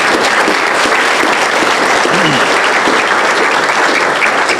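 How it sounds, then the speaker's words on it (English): Loud, dense audience applause for a panel at a meeting, sustained steady clapping from a room of people throughout, with no speech over it. "I'd just like to have an applause for our fantastic panel"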